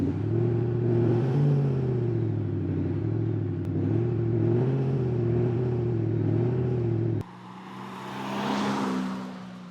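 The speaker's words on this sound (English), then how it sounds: "today we have our demo car, this Mercedes C-Class, which has an active exhaust system fitted." A Mercedes C-Class diesel with an active exhaust system simulating a V8 on the road, a steady deep droning engine rumble that holds and rises and falls, then cuts abruptly to a lighter rushing tone near the end.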